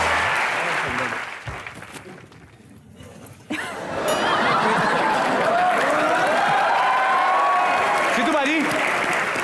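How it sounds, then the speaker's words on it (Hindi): An audience applauds the team on a comedy show stage, loud sustained clapping and crowd noise that builds after a short quieter lull, with a voice speaking in the first seconds. "जोरदार तालियां पूरी टीम"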